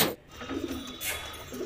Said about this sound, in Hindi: सब कबूतर अभी एक जगह पे हैं